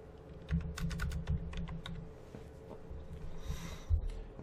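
A username and password are typed on a computer keyboard in a quick run of close, light key clicks with an uneven rhythm, a few heavier presses standing out and a brief pause near the end.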